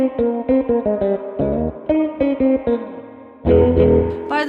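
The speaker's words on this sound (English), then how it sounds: "You can hear that sweep." An electric guitar runs through a Source Audio Artifakt lo-fi pedal with its filter swept, playing short repeated notes and chords that shift in tone, ending in a louder strummed burst.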